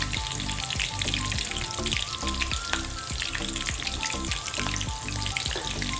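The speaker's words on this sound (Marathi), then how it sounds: "मिरची छान कडक होईपर्यंत आपण तळून घेणार आहोत।" Green chillies fry in hot oil for farali chivda, a dense, continuous crackling sizzle close up, with faint steady music running underneath.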